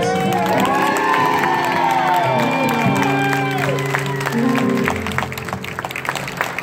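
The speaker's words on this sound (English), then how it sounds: "First, big round of applause for Mr." Crowd cheering and whooping at a live music performance, loud and sustained throughout, with shouts and a sustained singing-like voice over it, then easing off toward the end.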